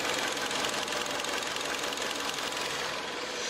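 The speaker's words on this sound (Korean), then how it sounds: "엔진 소음 먼저 들려드리면은" A Kia K5 car engine runs at idle, heard close with the hood open as a steady, fairly quiet mechanical hum and tick that barely changes in level.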